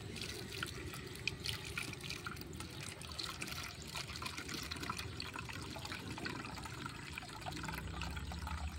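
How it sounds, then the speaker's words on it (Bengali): Homemade cornflour water pours through a large sieve into a bowl in a faint, continuous trickle with soft dripping, close by and with no voices. "এখানে তাহলে ছেঁকে নেব আমি।"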